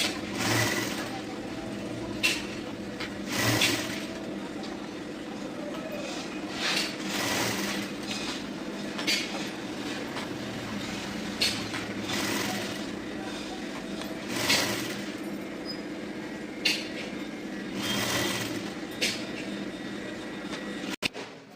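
A sewing machine stitches fine piping onto a garment neckline, its steady motor hum running throughout with rhythmic stitching and brief louder bursts as the fabric is fed and folded.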